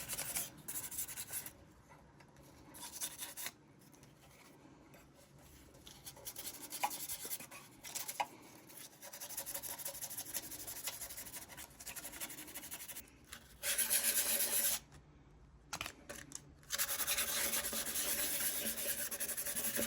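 Rusty old lantern hand-sanded with 400 grit sandpaper, a close, rhythmic scratchy rubbing in repeated strokes with brief pauses between passes and no voices.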